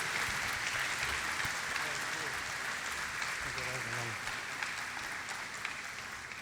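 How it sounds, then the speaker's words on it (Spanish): A congregation at a church anniversary service claps for a guest pastor: a soft, steady wash of applause heard from a distance, fairly faint throughout, with some voices faintly underneath. "que le demos un fuerte aplauso"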